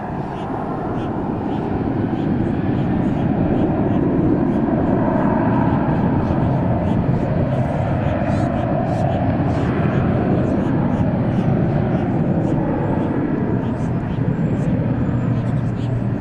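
Airliner in a special 100-year livery taking off at DFW airport, a loud, sustained engine roar rising and holding throughout, with voices talking over it.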